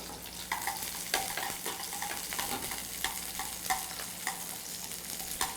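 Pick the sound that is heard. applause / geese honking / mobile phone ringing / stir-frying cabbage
stir-frying cabbage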